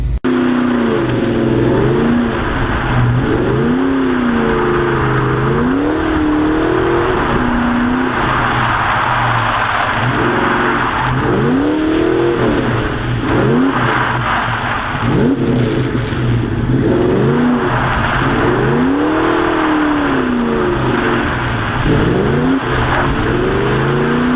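A drift car circling a skid pad, engine loud and close throughout, revs rising and falling in repeated swoops as the throttle is worked, with tire noise underneath and no talking.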